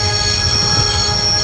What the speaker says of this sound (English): I'd always wanted to stop the train, and now was my chance.